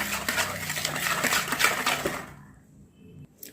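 Eggless butterscotch cake batter made with oil or butter is stirred in a bowl, giving quick, continuous clinking and scraping of a utensil against the bowl that stops abruptly after about two seconds.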